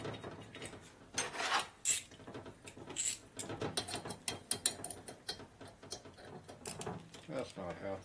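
Socket wrench ratcheting on rocker arm nuts while assembling a 1950 Harley panhead cylinder head, a run of quick clicking bursts close by with some handling clatter between them.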